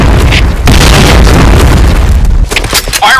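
A grenade in Point Blank bursts in a loud, booming blast close by, its roar filling the first couple of seconds before breaking into crackling debris and sharper pops.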